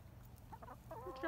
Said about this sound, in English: Chicken invasion!